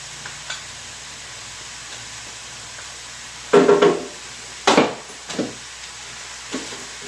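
Italian seasoning is stirred into vegetables in a sizzling pan; a steady quiet sizzle runs throughout, broken by a few louder scraping stirs near the middle.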